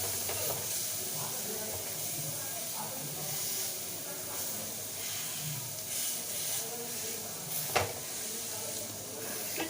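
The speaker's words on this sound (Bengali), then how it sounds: "একটু চেপে চেপে আমি ভেজে নেবো।" Chicken kebab frying in a pan on a gas stove over lowered flame, pressed down as it cooks; a steady close hiss and sizzle runs throughout with occasional sharper pops and clatter, and a voice talks over it.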